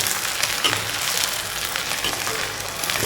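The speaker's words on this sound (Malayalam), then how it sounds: "അതൊന്ന് വറുക്കാം." Onions frying in hot oil in a pan while bitter gourd fry is being prepared, giving a steady, continuous sizzle with crackling spits throughout, close and fairly loud, with no talking.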